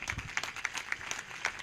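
A church congregation at a live prayer service claps together, a steady, moderately faint patter of many hands with rhythmic accents, lasting under two seconds with no talking.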